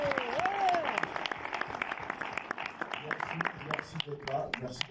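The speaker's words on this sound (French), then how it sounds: "On peut applaudir pour lui aussi" An audience at a film premiere claps steadily, with applause sustained and moderately distant, while a voice speaks over it through the first stretch.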